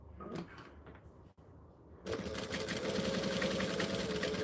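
A sewing machine stitches through layers of fabric. Quiet handling noises come first, then the machine starts with a steady, fast, buzzing run that carries on to the end.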